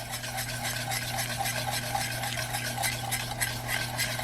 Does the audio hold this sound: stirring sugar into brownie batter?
yes